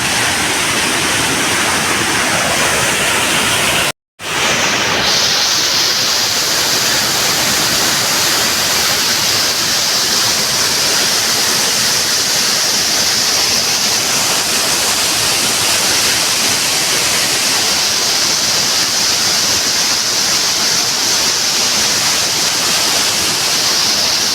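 Chintapalli Kothapalli waterfall running with heavy flow, a loud, unbroken roar of rushing water heard alone from the viewpoint, with one momentary dropout early on.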